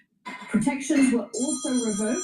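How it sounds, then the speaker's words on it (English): A phone rings with a high, steady electronic trill that starts partway through and keeps sounding under a man's continuous speech. "And that is my phone going off."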